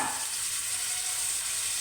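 Prawns frying in a pan, a steady, close, hissing sizzle with no talk.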